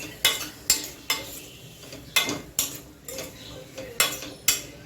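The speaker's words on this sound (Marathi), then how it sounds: "सुरण आहे तो मी आता याच्यात घालते घालताना पण आपण ना थोडा थोडा घालून परतून घ्यायचा" Elephant foot yam sautéed in a pan, a spatula scraping and clinking against the metal about ten times in an even rhythm over a faint sizzle, close and fairly quiet with no talking.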